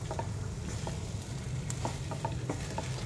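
A utensil stirring food cooking in a pan, soft, scattered scrapes and taps over a steady low sizzle, close and fairly quiet, with no voices.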